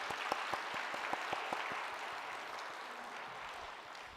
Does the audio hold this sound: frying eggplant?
no